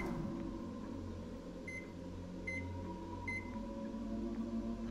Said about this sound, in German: Wir können eine Mikrowelle anschalten.